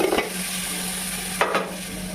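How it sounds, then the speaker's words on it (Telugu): Chicken being stirred into sizzling masala in a pan while cooking mandi rice, a steady frying hiss with a couple of brief scraping stirs, close and alone without talk. "ఇప్పుడు దీన్ని మంచిగా మిక్స్ చేసుకుంటాం."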